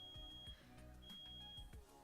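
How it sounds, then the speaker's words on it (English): Smoke alarm in a kitchen beeping faintly in the distance, two high, piercing tones about a second apart over a low layer of other sounds. "Someone set off the fire alarm."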